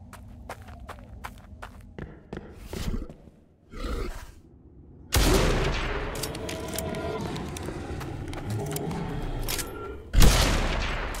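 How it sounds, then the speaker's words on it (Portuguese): In the video game Blood West, buffalo rifle shots and gunfire bursts ring out amid footsteps and movement, with a loud sustained barrage from mid-clip and another sharp blast near the end, no speech. "Toma tiro de búfalo rifle."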